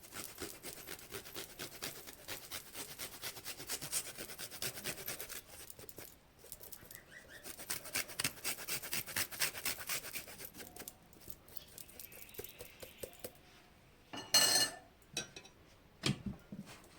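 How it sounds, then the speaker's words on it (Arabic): Fresh ginger being grated by hand, a steady run of dry rasping scrapes going on for several seconds at close range, then a few louder clatters near the end. "نحك واحد السطير ديال سكنجبير طري"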